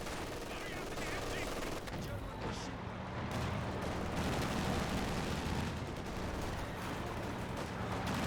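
A .50 cal machine gun rattles off rapid bursts amid other gunfire and battle noise in Company of Heroes 2, with a voice talking over the loud, dense combat.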